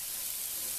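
Food sizzling in a pan on high heat while being stirred, a soft steady hiss throughout the moment, with no talk.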